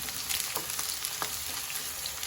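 Carrot and onion fry gently in a pan, giving a soft, continuous sizzle with faint crackles and no talking.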